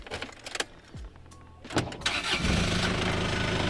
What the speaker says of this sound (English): immobilizer back in to turn the engine on